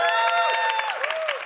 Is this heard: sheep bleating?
no